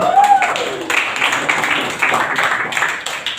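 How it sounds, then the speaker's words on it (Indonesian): A classroom of students gives a short burst of scattered clapping for a classmate during a lesson on engine conversion, with voices mixed in. "Tepuk tangan untuk Diki."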